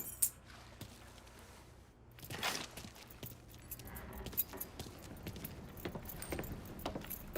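Keys jangle in short, light bursts during a Mafia 3 scene, faint and close against a quiet background, with no talking.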